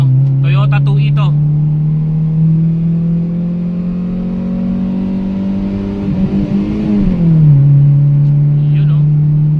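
A Toyota 2 car engine, not a double overhead cam, idles steadily after a tune-up, then revs up and drops back down; a voice speaks briefly near the start.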